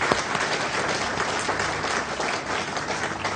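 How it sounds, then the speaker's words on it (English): Audience applauds throughout a Foreign Minister's speech at the Foreign Office, a dense, steady burst of many hands clapping at close range with no voices over it. "And a round of applause for all of them."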